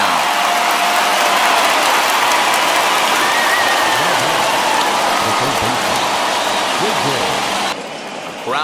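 Stadium crowd in the video game MLB The Show 21, a dense roar of cheering and applause from over 39,000 fans, loud and continuous, easing slightly near the end.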